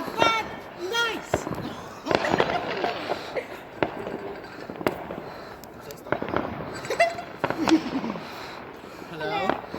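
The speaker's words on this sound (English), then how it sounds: "doing fireworks" Fireworks on Bonfire Night pop and crack in several sharp, scattered bangs at moderate distance, spaced irregularly across the stretch while people talk and exclaim throughout.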